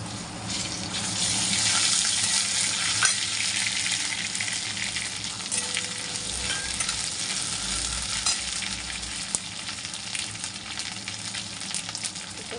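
Ginger paste frying in a pan for a Bengali prawn and cauliflower dish, a steady broadband sizzle running throughout with occasional faint stirring clicks, no voices.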